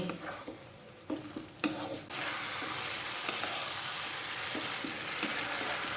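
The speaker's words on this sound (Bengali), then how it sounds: "আলুটা এইভাবে ভালো করে কষে নিচ্ছি।" Potatoes with spices fry and sizzle in a pan as they are stirred, scraping clinks giving way to a steady, loud sizzle.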